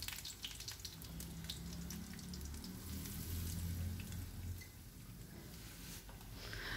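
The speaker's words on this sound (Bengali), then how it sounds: "সর্ষের তেলে দিয়ে দিলাম কালো জিরা, শুকনো লঙ্কা আর দু তিন কোয়া রসুন থেতো করে" Nigella seeds, dry chillies and crushed garlic fry in mustard oil, a soft, low-level sizzle with light crackles that runs continuously and stays faint throughout.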